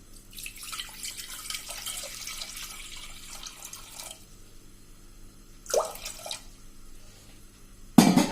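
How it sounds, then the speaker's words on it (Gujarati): Water runs into a pressure cooker on a gas stove, half a litre poured in a steady splashing stream for about four seconds, followed by quieter gaps and a couple of short splashes and a knock. "આ રીતે કુકર મૂકીને ગેસ ઓન કરીને આપણે 1/2 લીટર જેવું પાણી નાખશું એમાં"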